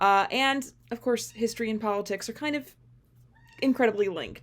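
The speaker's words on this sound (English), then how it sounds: "that's a cat meowing" A pet cat meows, drawn-out cries mixed in with a person's steady talking, fairly close and clear before and after a short pause.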